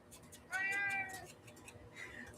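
A house cat meows once, a drawn-out, fairly loud cry lasting about half a second, followed by a fainter, shorter mew amid quiet indoor room noise.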